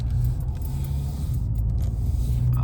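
A 2016 Ford Fusion with a 2.5 engine and a newly replaced throttle body drives along on a test run. From inside the cabin it gives a steady, loud, low engine and road rumble, with no talk.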